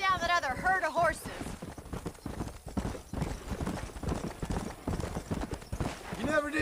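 Horses in the Red Dead Redemption game gallop in a steady, fast clip-clop rhythm of hooves, loud and close, with game sounds and voices mixed in at the start and end.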